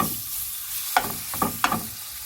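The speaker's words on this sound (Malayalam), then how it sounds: "ഈ പാനിലേക്ക് തന്നെ കുറച്ച് എണ്ണയും കൂടി ഒഴിച്ച് ചിക്കൻ വറുക്കാനായിട്ട് പോവുകയാണ്" Marinated chicken frying in oil in a pan makes a continuous close sizzle, broken by a few sharp spatula scrapes and knocks as the pieces are moved around, with no talk.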